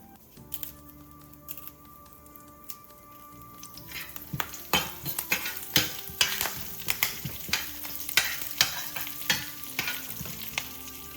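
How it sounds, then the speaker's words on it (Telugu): Curry leaves dropped into hot oil with dried red chillies crackle and sizzle, a steady fry that grows into sharp, rapid pops and spatters near the pan, with no talk. "ఇప్పుడు కరివేపాకు వేసుకోవాలి."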